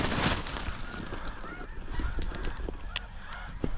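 A flock of mostly juvenile snow geese honking in spring in North Dakota, many overlapping calls at moderate distance with a few sharper nearby honks standing out.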